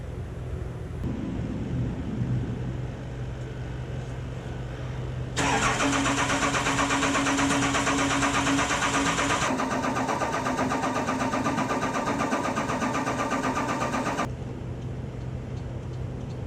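A Cummins 12-valve diesel engine cranks and catches, rising from a low rumble into a loud, steady running roar for several seconds before dropping back to a quieter idle-like drone.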